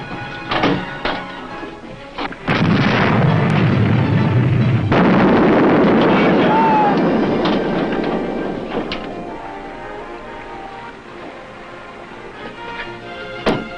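Heavy gunfire and blasts roar through a 1957 submarine-battle drama, a dense sustained rumble rising abruptly, holding loud for several seconds and then fading into scattered bangs.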